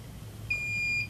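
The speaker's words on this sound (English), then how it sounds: "Now it beeped for us." A Macroduct Advanced Model 3710 sweat-collection device gives a single steady electronic beep lasting about half a second to signal the end of iontophoresis, over a quiet low hum.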